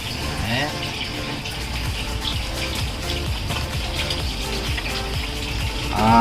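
Water runs steadily through an aquarium filter past a built-in lamp, a continuous close gurgling flow with someone speaking over it.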